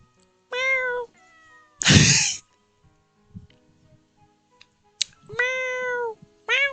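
A cat meows in the Corpse Party video game, several distinct meows spaced out with pauses and a soft burst of noise between them, close and clear with no talking.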